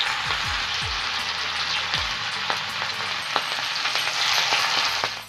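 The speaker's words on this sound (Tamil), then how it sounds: "அதுக்கு ஒரு தோசைக்கல்லில் கொஞ்சம் எண்ணெய் ஊற்றி எண்ணெய் நல்லா சூடானதுக்கப்புறம் நம்ம மசாலா போட்டு வச்சுருக்கிற மீனை ஒவ்வொன்றா சேர்த்து" Masala-marinated fish frying in hot oil on a dosa pan, a steady close sizzle with occasional sharper spits and pops running throughout.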